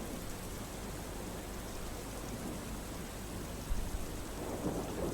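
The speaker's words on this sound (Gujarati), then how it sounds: "ગાજવીજ સાથે વરસાદની શરૂઆત થઈ હતી" Steady rain pours in a thunderstorm in Chuda, Surendranagar, a dense even hiss with a low rumble of thunder beneath and a brief swell near the end.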